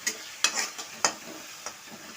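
Food sizzles steadily in a hot pan while a spoon stirs chilli chapati with soy sauce and vinegar in several quick, irregular strokes, close by.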